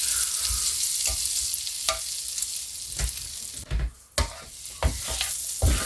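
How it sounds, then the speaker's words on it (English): Potatoes fry in butter in an electric skillet with leftover bacon bits, giving a loud, continuous sizzle broken by several scraping stirs, with no voices. "throw some butter in there, and I'm going to start cooking up the potatoes"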